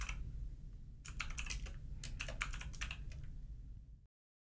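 A burst of quick computer-keyboard keystrokes, clustered clicks over about three seconds, close and fairly quiet over a low steady hum, with no talking.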